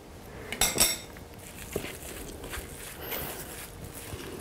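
Spoon clinks and scrapes in a bowl while stirring mashed tofu with raw chives, a couple of brighter knocks near the start followed by quiet, steady scraping.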